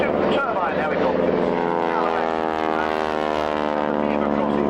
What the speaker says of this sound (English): We have the Auster running in, flanked by the Bell 47 Sioux and by the Skeeter